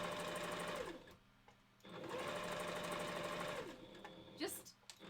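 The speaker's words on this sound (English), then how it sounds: "working with a sewing machine" A sewing machine stitches fur pieces together for a wolf partial head, running in two long steady bursts with a short pause between and brief handling noises at the end.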